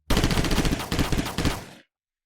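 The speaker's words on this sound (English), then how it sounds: "avoiding all of the DC Sonic guys' gunfire" Sustained rapid gunfire from an action movie shootout, loud and dense bursts of automatic weapons firing continuously for nearly two seconds before cutting off abruptly.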